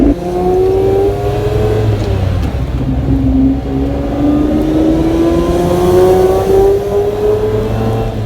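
Lamborghini LM002 SUV engine pulling steadily while driving, a loud continuous drone that rises gradually in pitch as it accelerates, with no talking over it.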